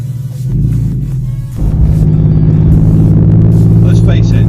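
A 1999 Porsche 911 Carrera with 300 bhp accelerates hard, its engine a loud, close, steady rumble that swells and deepens partway through and holds strong to the end.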